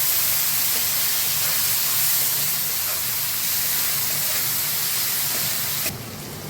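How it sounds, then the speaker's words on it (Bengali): Chopped onion fries in a pan with a little sugar, giving a dense, steady hiss that stays loud and even. It cuts off sharply near the end, with no talking. "পেঁয়াজ ভাজা হয়ে গেছে"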